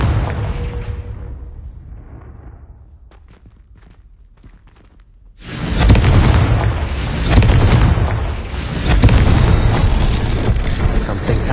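A Confringo blasting spell explodes in the video game Hogwarts Legacy, a loud booming burst that swells and rumbles for several seconds with a second surge, following quieter game sounds.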